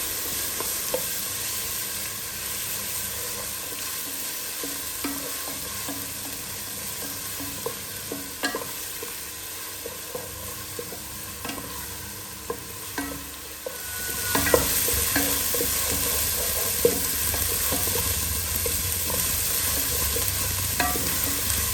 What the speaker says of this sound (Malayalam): അപ്പം മീഡിയം ഫ്ലെയിമിലിട്ടിട്ട് നന്നായിട്ട് ഒരു 2-3 മിനിറ്റ് ഇളക്കി കൊടുത്തു കഴിഞ്ഞാൽ നന്നായിട്ട് മൂത്ത് വരണം കേട്ടോ.